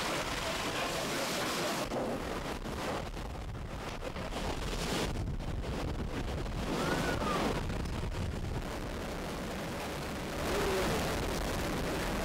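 Storm wind and breaking waves on the open sea, recorded aboard a boat, give a continuous loud broadband roar with gusting wind buffeting the microphone and surging water throughout.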